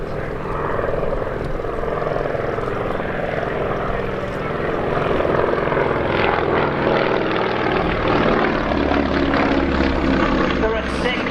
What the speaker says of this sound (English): the Staggerwing was a 5-seater luxurious aeroplane